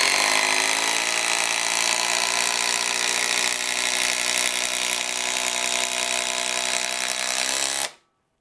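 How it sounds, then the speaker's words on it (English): A loud, close DeWalt impact driver whirs and rattles steadily for about eight seconds as it drives a timber screw without pre-drilling, then stops sharply. "Let's go ahead and see how we drive this straight through."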